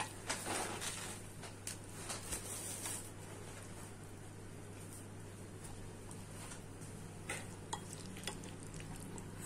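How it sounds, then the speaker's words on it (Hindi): A spoon stirs fried pointed gourd bharta in a pan, giving faint, steady sizzling with a few scraping clicks near the start and end, close but quiet under a low constant hum. "चम्मच की सहायता से अच्छे से मिला लेंगे।"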